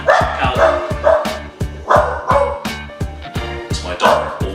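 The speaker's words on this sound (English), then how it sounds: "it's my dog, or one of 3 dogs" A household dog, one of three, barks in a quick, steady series of sharp, loud, close barks that keep up the whole time.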